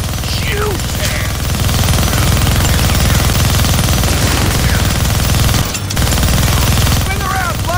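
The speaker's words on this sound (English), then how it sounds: "Gonna need both hands to shoot that minigun." A minigun in the Deadpool game firing almost without pause, a dense, loud mechanical roar with a brief break near the end, while voices talk over it.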